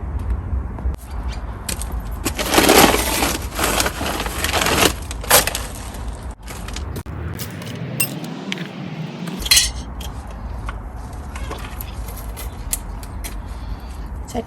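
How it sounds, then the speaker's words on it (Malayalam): Broken pieces of a flower pot being handled during garden cleaning, with ceramic clinks, scraping and clattering in irregular bursts, louder early and then sparser knocks and rustles, close by. "അതൊരു ചെടിച്ചട്ടിയൊക്കെ പൊട്ടിയിരിക്കുന്നതാണ്"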